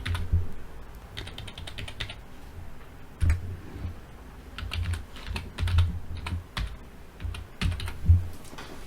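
A company name is typed on a computer keyboard in quiet, uneven bursts of key clicks with brief pauses between.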